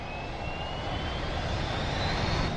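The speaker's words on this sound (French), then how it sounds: "Tout a commencé là, quand mon avion a décollé." A jet airplane roars during takeoff, a loud, steady, broadband engine rumble with a faint rising whine, heard alone without talking.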